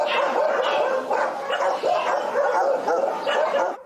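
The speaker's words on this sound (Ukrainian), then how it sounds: "Виглядають з вольєрів, махають хвостом та голосно гавкають." Many dogs bark continuously from enclosures at a Zaporizhzhia animal shelter, a dense overlapping chorus of loud yips, barks and whimpers close by.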